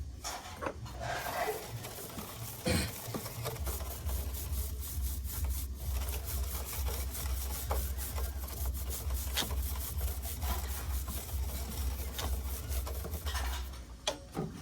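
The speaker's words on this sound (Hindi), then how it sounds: "इसको यहाँ पे ऐसे लगाना और ऐसे रगड़ना। देख सकते हो ये पूरी अच्छी तरह से चेन को क्लीन कर लेगा।" A brush scrubbing an NS 160 motorcycle chain clean at home, a steady rhythmic scratching and rasping of bristles over metal links, close up, over a low background hum.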